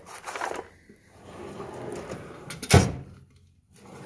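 A drawer on a 2019 Snap-on toolbox slides open with a rolling rumble and a sharp metallic clunk as it stops, followed by a quieter slide near the end.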